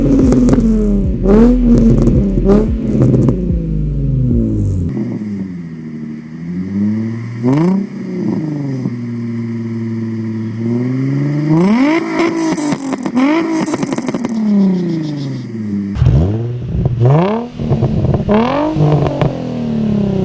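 Nissan 350Z with a cheap aftermarket exhaust, revved hard and loud up close in repeated rising and falling sweeps, with a steadier held rev in the middle stretch.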